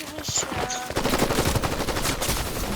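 Rapid gunfire from a Fortnite 2v2 match, dense overlapping shots and bursts running continuously at steady loudness, with no voices.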